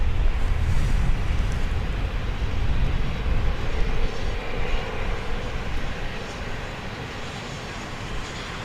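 A jet airliner roars in on approach to land at Dallas Love Field, a loud, steady broadband engine rumble that holds throughout and eases slightly toward the end, with no talking.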